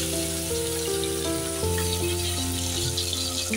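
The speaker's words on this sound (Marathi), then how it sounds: "आता त्यात घालूया आपण तेजपत्ता आणि त्यासोबत घालूया कांदे।" Onions and bay leaf frying in a pan: a steady, close sizzle runs throughout, with sustained musical tones layered over it.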